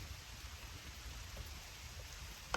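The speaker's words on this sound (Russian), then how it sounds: "Дождь пошел, что вот делать?" Rain falling outdoors by a dugout shelter in the forest, a faint, steady hiss of drops without a break.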